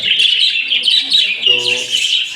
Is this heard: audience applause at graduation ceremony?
no